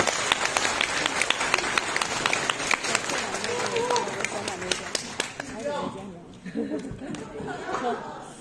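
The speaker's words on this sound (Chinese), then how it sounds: "谢谢大家伙的掌声与鼓励啊" A theatre audience at an evening crosstalk comedy show in Tianjin bursts into loud, sustained clapping mixed with chatter and a little laughter, thinning out toward the end as it fades.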